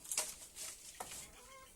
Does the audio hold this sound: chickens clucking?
yes